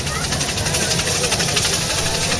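A diesel locomotive pushes a train up a Swiss mountain railway, its engine a steady, close, rumbling drone with rhythmic knocking throughout.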